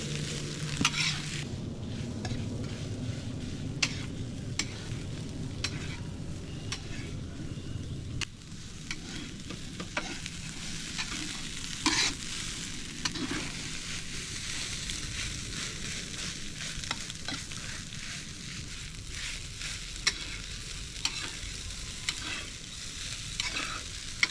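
Egg being stir-fried in a pan for a Thai dish, with a constant sizzle and frequent scraping, clattering strokes of the spatula that shift in tone midway as the pan is worked.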